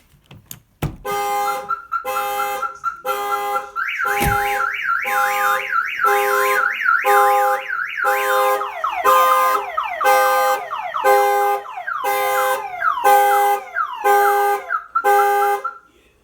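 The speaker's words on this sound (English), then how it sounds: "If the vehicle is hit or any of the doors are pried open, it will fire off the alarm." A loud aftermarket Viper car alarm on a 2012 Dodge Challenger blares alone, alternating rapid pulsing horn blasts with a rising and falling warbling siren that repeats for several cycles.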